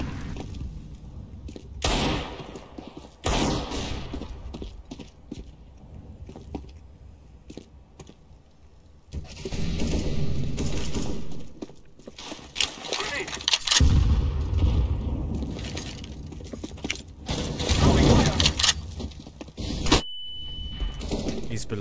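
Gunfire in Counter-Strike: Global Offensive, several loud bursts of shots spread across a noisy match, mixed with keyboard clatter and players talking.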